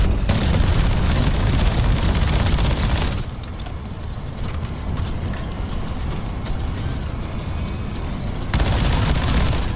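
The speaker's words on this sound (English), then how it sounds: "Cluster grenade going." A cluster grenade in a video game sets off a rapid burst of booming, crackling explosions, then a quieter rattling stretch before another loud blast near the end, no talking.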